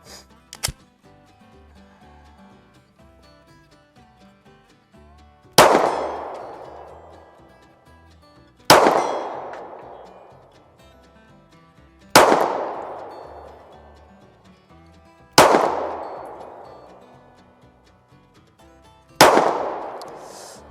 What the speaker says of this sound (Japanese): 10発撃ってきましたけども